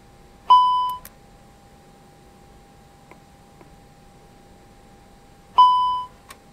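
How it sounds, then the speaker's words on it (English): A cockpit warning in an Airbus A319 in the X-Plane 11 flight simulator, two chiming beeps about five seconds apart over a steady low hum, each one loud and ringing briefly before it fades. "And why are you still beeping? Go away."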